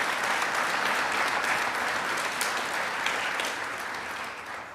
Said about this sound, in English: So let's give those young ladies one more round of applause.